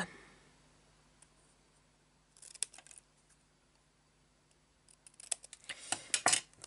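Scissors snip through a small paper note for a handmade poinsettia card, a few quiet isolated cuts and then a denser burst of crisp snips and clicks close by near the end.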